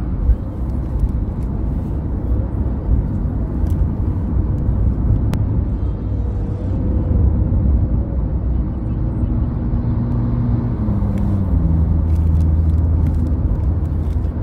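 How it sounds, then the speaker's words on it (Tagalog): Fast cars pass on a highway, a loud, sustained road rumble with swelling engine and tyre noise as vehicles go by close, continuing without pause and without talk. "Ang bibilis ang mga sasakyan, nasa standard na takbo ba."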